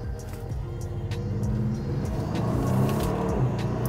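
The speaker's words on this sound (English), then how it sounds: "Turbo surging." A 2021 Maserati Levante in sport mode climbing a mountain road, its engine rumbling steadily and building under acceleration, with a rising whooshing surge from the turbo and no talking.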